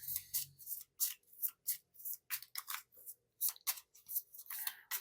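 Tarot cards being shuffled by hand, a steady run of crisp riffling and slapping bursts close up, with no voices.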